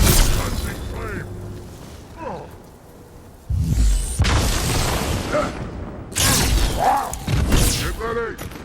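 Grenade explosions in Halo 2 Anniversary, heavy booming blasts near 3.6 and 6.2 seconds with a rumbling aftermath, mixed with battle noise and shouting game voices.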